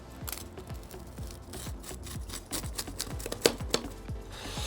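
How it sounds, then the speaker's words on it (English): Repeated crunchy cutting strokes across the crisp crust of a pizza baked in a Big Green Egg, a quick scraping rhythm with a few sharper crackles, close and fairly quiet. "we're going to slice it now"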